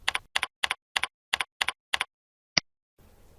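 Quiet, close keyboard typing: seven quick double-clicking bursts of keys in steady rhythm, a single sharp final keypress, then near silence; no talk.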